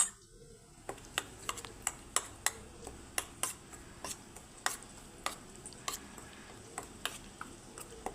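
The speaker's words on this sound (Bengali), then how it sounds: "দইটাকে আমি ভালো করে ফেটিয়ে নেবো" Yogurt (curd) being whisked for doi potol gives a steady series of light, sharp ticks and taps of a utensil against a bowl, roughly regular and close but fairly soft.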